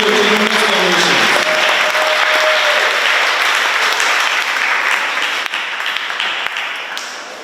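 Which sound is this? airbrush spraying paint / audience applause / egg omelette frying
audience applause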